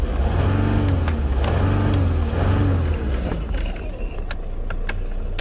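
A 2011 Mercedes-Benz E350 BlueTEC diesel sedan idles, then its engine is revved up in rising, swelling surges and allowed to fall back, loud and close from inside the car, with no speech.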